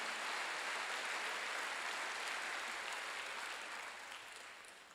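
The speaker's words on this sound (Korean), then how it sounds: "박수." A church congregation applauds during a Wednesday worship service, sustained clapping from many hands at moderate volume, steady and then fading away toward the end.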